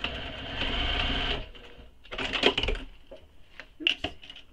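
A home sewing machine stitches the lining of a handmade squoval bag, whirring steadily at close range for over a second, then stopping and starting in short bursts as the presser foot is lifted over bulky fabric layers.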